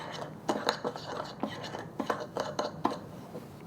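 Five-spice seasoning being stirred together in a bowl, giving a run of light clinks and scrapes in an uneven rhythm, close and moderately loud with no talking.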